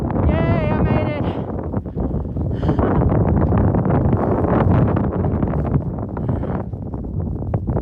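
Strong wind blows dirt around outdoors and buffets the microphone with a loud, continuous roar and rumble, and a voice is heard briefly near the start.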